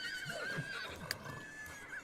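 A horse in The Sims 3 video game gives a long, drawn-out whinny that rises and falls, clear and fairly close, with no talking.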